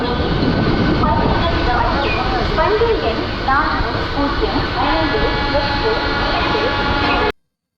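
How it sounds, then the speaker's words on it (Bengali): A train pulling out of Chengalpattu Junction gives a steady, loud, close rumble of rolling rail cars with mixed background noise, continuing evenly until it cuts off abruptly near the end. "সাতটা বেজে পঁচিশ মিনিটে আমার ট্রেন ছেড়ে দিল চেঙ্গুলপাট্টি জাংশন থেকে"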